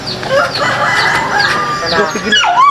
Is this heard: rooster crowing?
yes